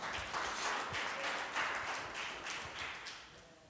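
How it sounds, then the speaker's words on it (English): A church congregation claps during a Sunday service, a soft, somewhat distant patter of many hands that rises and falls gently over a few seconds. "clap your hands for Jesus"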